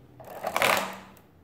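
A de Colmar arithmometer set to subtraction being cranked, giving a brief close mechanical whirring clatter of gears and carriage that rises and fades within about a second.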